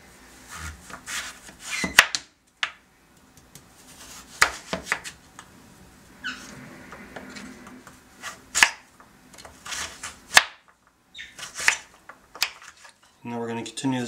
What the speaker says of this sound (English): now we're going to continue this process till we have all of our butternut squash cut into cubes